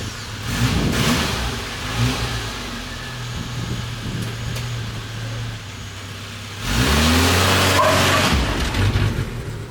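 A Geo Tracker driven with its top open, giving a steady car engine drone that swells louder as it accelerates near the end, with wind noise throughout and no talk.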